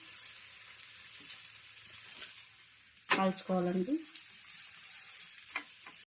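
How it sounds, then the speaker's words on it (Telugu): Bobbatlu, a sweet stuffed flatbread, sizzles steadily as it roasts in a pan, a soft continuous crackle broken by a brief, louder burst of voice midway. "ఇలా మంచిగా అటు ఇటు కాల్చుకోవాలండి."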